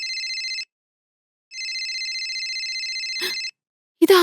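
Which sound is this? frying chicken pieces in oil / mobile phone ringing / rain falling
mobile phone ringing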